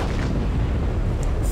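The New Mexico battleship's front guns fire in the World of Warships naval game, producing a loud, heavy booming roar that fills the whole brief moment with deep rumbling blast noise.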